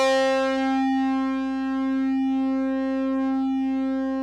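A steady electronic tone from a System-1m synthesizer, with many bright harmonics, holds one pitch, its loudness gently swelling and dipping in a slow, even pulse from a sine-wave LFO.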